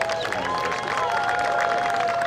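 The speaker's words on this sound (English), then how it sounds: "a round of applause." A crowd applauds officials and volunteers at the 2021 Gulf South Conference men's soccer championship awards. Clapping and light cheering form a steady, even wash of sound that holds throughout.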